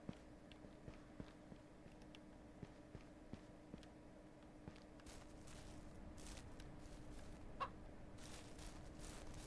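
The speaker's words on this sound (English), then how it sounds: "I think that was the chicken yelling at me for closing the door" Chicken clucking in the ranching game Ranch Simulator, soft repeated clucks amid a steady ambient hum, fairly faint with a brief louder call near the end.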